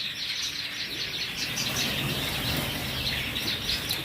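White Java sparrows in a breeding colony, many birds chirping at once in a dense, continuous flock chatter at close range.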